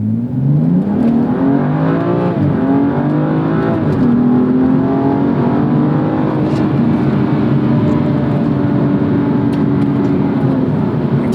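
A 2016 BMW M235i sports car engine revs and accelerates hard, loud and close from inside the cabin, the pitch climbing through the gears with a shift break around four seconds.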